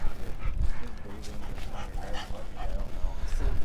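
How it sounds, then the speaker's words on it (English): A leashed dog among the gallery on a golf course barks and yips repeatedly, fairly close and loud, mixed with whimpering, while people talk over it. "here with his dog on a leash"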